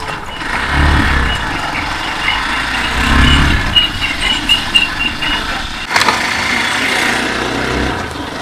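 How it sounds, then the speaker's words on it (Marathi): A motorbike engine rumbles low as the bike rides straight onto the beach near Sindhudurg fort in Malvan. Strong wind buffets the mic throughout, swelling and easing, with a brief voice in the mix. "एक नंबर डायरेक्ट बाईक येते रे बीच वरती"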